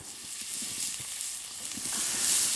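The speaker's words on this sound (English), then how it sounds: "I'm going to saute the onions and peppers." Onions and peppers sizzle steadily in a pan over a coal fire at a winter yurt campsite in Minnesota, a continuous close frying hiss with small crackles, no voices.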